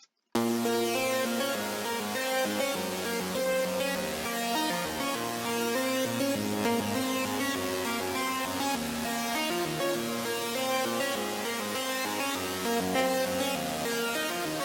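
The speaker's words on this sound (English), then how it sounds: "this sound comes from Serum" A cinematic lead synth preset from Serum in FL Studio plays a sustained, harmonically rich melodic line, loud and steady throughout with no voices over it.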